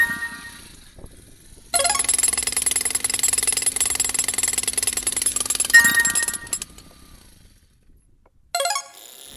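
A hammer drill pounds into a large rock to split it, running in a loud, rapid burst for several seconds, then stopping; a short second burst follows near the end.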